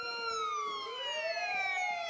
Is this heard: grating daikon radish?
no